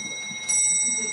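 A bell rings in a lecture room about Madame Blavatsky, a bright sustained chiming tone that swells suddenly partway through and keeps ringing, clear and fairly loud, with no talk.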